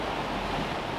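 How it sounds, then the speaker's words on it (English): Ocean waves surge and churn against a sailboat in open sea, mixed with gusting wind buffeting the microphone in a steady, loud roar. "the winds are going in all directions and the waves are crazy"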